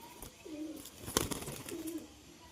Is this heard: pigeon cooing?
yes